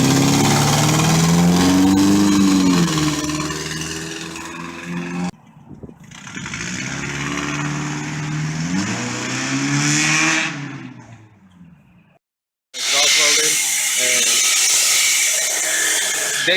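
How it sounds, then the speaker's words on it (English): A car with a newly installed aftermarket exhaust revs repeatedly, engine note climbing and falling in several throttle blips, with brief cut-offs between takes and a hissy tail at the end. "They have all 2 parts that you're going to hear now."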